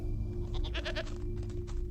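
A lone goat on a Galapagos island bleats in a short wavering call, heard over a constant low engine or rotor drone.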